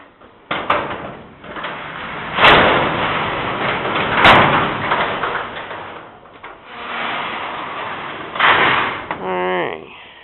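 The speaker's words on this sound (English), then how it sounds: "I get some light going with opening the doors" Doors of a stick-built building are opened, with several rumbling slides and heavy thumps and clunks spread across the stretch, mixed with people talking.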